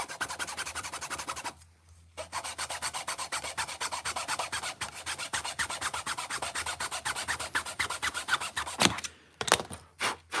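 Small piece of wood hand-sawn in a miter box for a miniature Japanese shoji wall, fast rhythmic rasping strokes up close, a short pause early on and a few slower strokes at the end.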